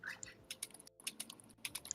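Typing on a computer keyboard: quick, irregular key clicks in close, soft bursts with a brief pause midway, and no voices.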